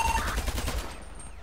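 A short burst of rapid gunfire rings out in a Brazilian police roleplay video game, a quick volley of shots that fades within about a second.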